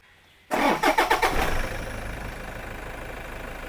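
A Toyota Fortuner or Mitsubishi Pajero diesel engine cranks with several quick chugging strokes, catches loudly and settles into a steady, rumbling idle close by.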